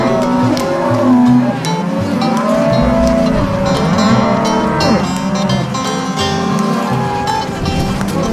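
Cattle moo repeatedly and loudly on a hot ranch pasture as cowboys on horseback gather the herd, several overlapping calls close by with faint talk beneath.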